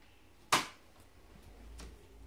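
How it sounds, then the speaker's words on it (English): A Toshiba Satellite L300 laptop gives a single sharp click as it accepts an inserted hard drive, near and fairly faint, followed by a soft thud and quiet room noise. "I believe that is the sound of the laptop accepting the hard drive for some reason."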